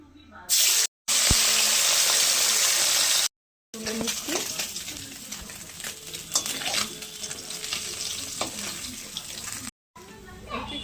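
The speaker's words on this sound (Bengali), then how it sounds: "সর্ষের তেল মাছগুলো ভেজে নেব" Fish frying in mustard oil in a kadai, a loud, bright hiss and crackle right up close that runs on with stirring and scraping, broken by a few short cuts of silence.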